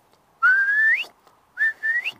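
A person whistles two rising, sliding notes imitating a curlew's call, clear and close with a short pause between them.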